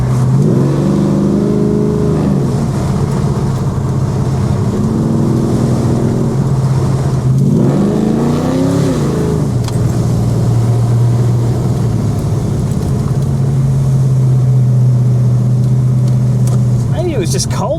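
A Ford XW with a 351 Cleveland V8 and Holley carburettor accelerates hard at full throttle, its engine note climbing steadily through the gears as a loud, continuous drone with rising pitch sweeps, and people talking over it.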